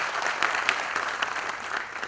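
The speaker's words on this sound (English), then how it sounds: "Big round of applause for Kunj Nayak." A conference audience at an anniversary conclave applauds for a performer, an even, crackling wash of many hands clapping at moderate volume throughout.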